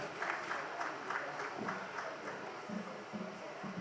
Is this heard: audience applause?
yes